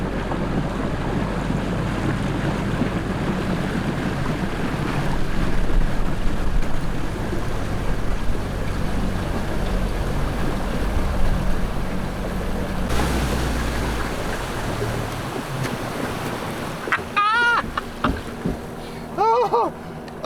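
A large, fast dinghy outboard motor runs at speed across open water, a steady loud roar mixed with wind buffeting and splashing, easing off near the end as brief voices cut in.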